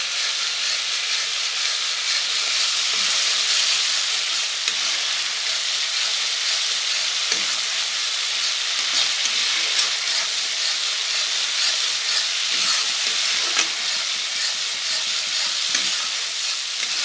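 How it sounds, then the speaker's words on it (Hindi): Spiced masala sizzles and fries steadily in a pan during cabbage masala pakoda preparation, a continuous close hiss with occasional soft stirring knocks and no voices. "और 5 मिनट के लिए मसाला को अच्छे से पका लेती हूँ।"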